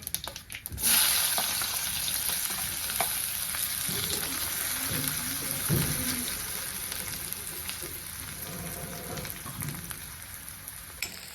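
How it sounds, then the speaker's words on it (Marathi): Chopped onion sizzles steadily in hot oil tempered with mustard seeds and cumin while making a bitter gourd dish, with a loud hiss that carries throughout and occasional stirring clatter close by. "आता कांदा आपल्याला टाकायचा आहे त्या तळण्यासाठी"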